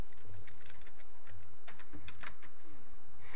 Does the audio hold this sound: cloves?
no